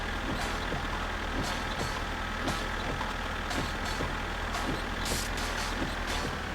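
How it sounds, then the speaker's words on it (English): Tractor engine in the My Summer Car video game, a constant low droning rumble heard in rainy weather, with steady hiss and occasional clicks over it, no talking. "Let's park the tractor in the tractor parking spot."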